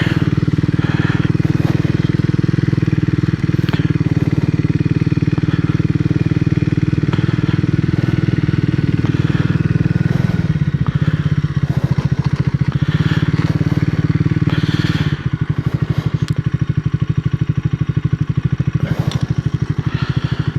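A 2025 Triumph Speed 400 motorcycle engine drones steadily and loudly throughout the ride, a constant close-up roar with slight shifts in pitch and occasional clatter as it runs.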